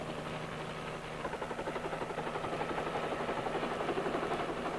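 A Marine helicopter flies overhead with a faint, steady rotor thrum that picks up into a pulsing beat partway through.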